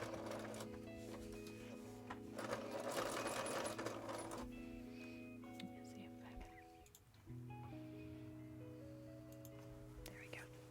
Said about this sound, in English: So we're just going to sew that right again.